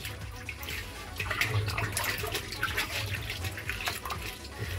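Soaked material, prepared as a soil activator for sweet potato farming, is squeezed in a container of water, giving a soft, continuous sloshing and trickling close by, with faint drips and splashes throughout.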